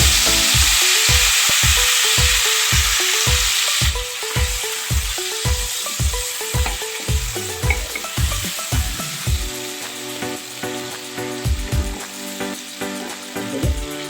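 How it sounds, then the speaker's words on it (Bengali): Chopped tomatoes hit hot oil in a pan and fry with a loud, steady sizzle, with rhythmic stirring scrapes that thin out as the sizzle settles. "আমরা সেই তেলের ভিতরে দিয়ে দেবো টমেটো কুচি, কেটে রাখা টমেটো কুচি"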